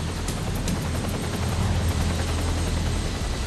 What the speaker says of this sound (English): A helicopter lowers a rescuer with a stretcher.